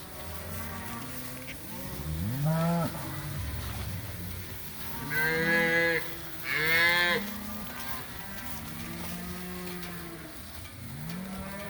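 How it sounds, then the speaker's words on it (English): Several cattle on a farm pasture moo in turn, drawn-out lowing calls from near and farther off, some overlapping, over a quiet evening background. "the cows seem pretty happy in here"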